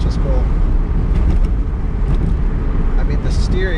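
An original Tesla Roadster electric car accelerates hard, giving a steady, close cabin rumble of road and motor noise that holds throughout, with a faint rising whine near the end.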